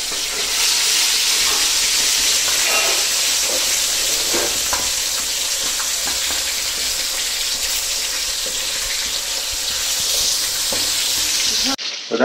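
Fish fries in a pan in a home kitchen, a loud, steady, close sizzling and crackling hiss that runs without break, with faint clatter on top.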